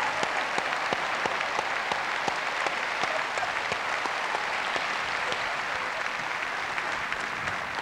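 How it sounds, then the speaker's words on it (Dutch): Steady audience applause fills a large ice show arena, an even wash of many hands clapping throughout, with a few sharper individual claps standing out. "Hartelijk applaus voor jullie."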